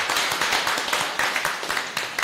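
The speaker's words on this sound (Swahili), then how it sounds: "Tupige makofi tafadhali kwa your speech" An audience at an annual general meeting applauds after a speech, a dense burst of many hands clapping in quick uneven rhythm, loud and close, with no talking over it.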